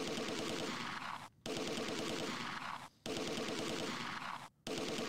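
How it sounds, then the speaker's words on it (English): Long sustained bursts of MG42 machine gun fire in the World War II strategy game Close Combat 2, three continuous rattling volleys separated by brief pauses, heard at a distance with no speech. "Sounds like there's an MG42 somewhere."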